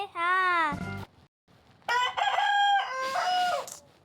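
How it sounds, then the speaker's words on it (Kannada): A rooster crows twice, close and loud, each call a long harmonic cock-a-doodle-doo, with a short pause of near silence between them. "ಅದು ನಮ್ಮದೊಂದು ಕೋಳಿ"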